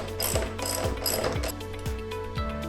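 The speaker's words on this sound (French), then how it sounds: "Ça va prendre un ratchet avec une douille de 16 mm puis une clé 15 mm." A ratchet fitted with a 16 mm socket works loose the bolt holding a snowmobile ski, giving close, crisp runs of ratcheting clicks in several quick back-and-forth strokes.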